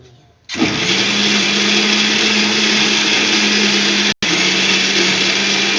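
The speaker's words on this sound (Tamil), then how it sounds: "இந்த வெங்காயத்தை போட்டு ஒன்று ரெண்டாக அரைச்சி வலிச்சிடணும்" A mixer grinder whirs loudly and steadily as it coarsely grinds onions for a curry masala, running continuously with one brief cut-off pulse near the end before it starts up again.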